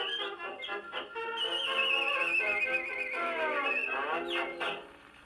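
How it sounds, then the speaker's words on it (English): A man whistles a wavering, sliding melody in a theatre setting, fairly faint, the tune bending up and down over several seconds before trailing off. "That was his whistling."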